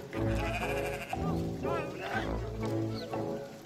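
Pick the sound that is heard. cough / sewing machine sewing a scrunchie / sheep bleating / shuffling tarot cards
sheep bleating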